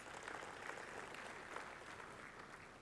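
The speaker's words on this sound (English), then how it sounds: "Shall we show our happiness in giving a big round of applause to everyone here?" Audience applause at a logistics conference in Trincomalee, Sri Lanka, a dense, steady wash of clapping hands at moderate level throughout.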